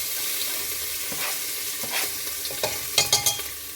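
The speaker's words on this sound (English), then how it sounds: "into the pan we're going to put the onions in. You'll hear them sizzle," Onions, ginger and garlic sizzle in a frying pan for a chicken curry, a steady hissing crackle with spoon scrapes and clinks from stirring growing louder toward the end, close up.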